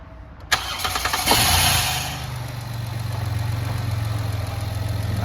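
A Chrysler Town and Country minivan with a stalling fault idles steadily up close as it is shifted into reverse, with a loud starting surge early on that settles into a constant low engine drone without stalling.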